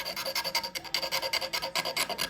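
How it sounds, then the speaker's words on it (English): An X-Acto blade scrapes imperfections off a craft piece in quick, rhythmic rasping strokes, close and distinct with no talk. "We just take the X-Acto blade and scrape away any little imperfections."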